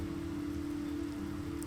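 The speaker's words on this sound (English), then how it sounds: "We're just standing here to shelter from the rain." Steady rain falling in the video game Fall of Porcupine, a continuous moderate wash of drops with a constant low hum beneath and no voices.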